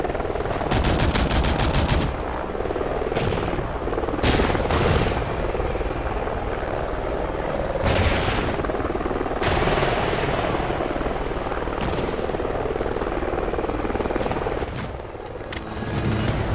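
A friendly helicopter in Call of Duty Ghosts circles overhead with a steady rotor drone while bursts of machine-gun fire rattle near and far, with no talk over the din.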